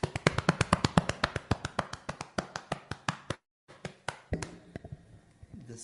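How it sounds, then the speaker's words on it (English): Rhythmic body percussion of hands patting on a belly, a steady run of soft, close taps that briefly stops, then resumes more loosely and fades out. "the sound of your belly"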